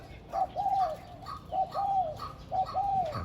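Doves coo in three repeated phrases, each a soft low hoot rising then falling, evenly spaced over a faint background.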